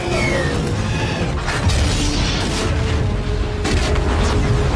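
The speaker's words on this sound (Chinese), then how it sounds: "剧烈的爆炸声惊动驾驶员" A train explodes in the Star Wars series The Book of Boba Fett, giving a loud, sustained roaring blast with deep rumble that fills the whole stretch.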